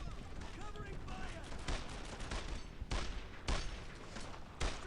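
Gunfire from a World War II squad battle in Brothers in Arms: Earned in Blood, with repeated sharp shots and short bursts popping over a noisy battlefield background while a voice shouts now and then.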